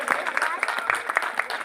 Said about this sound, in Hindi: लिए भाई तालियां होनी चाहिए